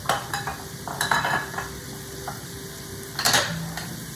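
Shrimp and steak fried rice sizzles steadily in a pan while a utensil stirs and scrapes against the metal in several close, clattering bursts.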